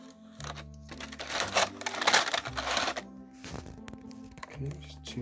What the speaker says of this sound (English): Apologies for the scraping noise.